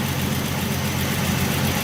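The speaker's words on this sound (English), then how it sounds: "So we got her running. She's purring pretty good." A 1967 Ford Mustang coupe with an inline six engine idles steadily up close, with a constant low rumble and no voices over it.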